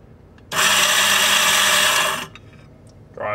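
A Quamar M80e coffee grinder runs for a short burst of about two seconds, a loud, close, bright whirring grind that starts and cuts off sharply, followed by faint handling noises.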